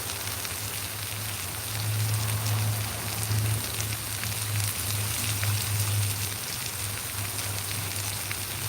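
Bok choy rinsed under a running kitchen tap, a steady close hiss of flowing water with a low hum beneath, no talk.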